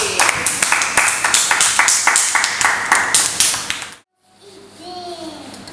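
A church congregation, including children, claps in a quick, even rhythm for about four seconds, loud and close, then stops abruptly, followed by quieter voices and a faint tone.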